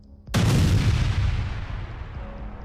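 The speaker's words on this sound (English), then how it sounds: "The explosion badly damaged it, yet it still attempted to move forward." A loud, close blast as an armored personnel carrier runs over a mine in a combat zone: one sudden heavy boom that fades into a long rumbling decay with crackling debris, with no voices.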